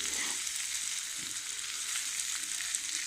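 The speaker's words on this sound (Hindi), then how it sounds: "इसको हम भूनते जाएंगे।" Mixed pickle paste frying in oil in a pan, a steady close sizzle and crackle with faint stirring scrapes, no voices.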